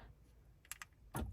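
Key-fob door locks on a 2006 Honda Pilot actuate in a quick pair of sharp clicks, then a firmer clunk a moment later, close by in a quiet setting.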